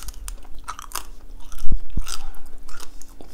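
Someone chews crispy air-fried sweet potatoes close to the microphone, with irregular crunchy bites and a couple of sharper crunches midway, and no talking.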